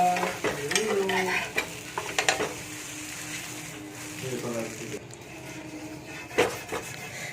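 A coconut and rice flour dosa cooks lightly in a little oil on a pan: scraping and clinking of a spatula, with a soft, intermittent sizzle close by.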